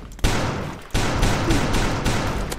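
Gunfire in the Roblox game Da Hood, a loud, dense burst of rapid shots that stops briefly, then resumes in another sustained volley close up.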